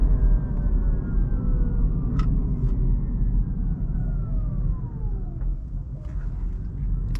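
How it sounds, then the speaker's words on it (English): A Rivian R1T Launch Edition electric pickup on 20-inch all-terrain wheels coasts with regenerative braking, and a faint whine falls slowly in pitch as it slows over steady road and tire rumble. "when I let off the acceleration pedal, you'll hear the regenerative braking kick in, and that whirling noise"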